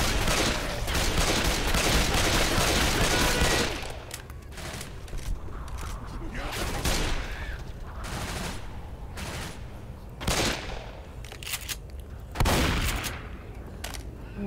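A laser-sighted shotgun fires in the Left 4 Dead video game: dense, loud gunfire at first, then scattered sharp shots and bursts over a busier game backdrop.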